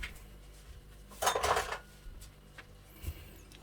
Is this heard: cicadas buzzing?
no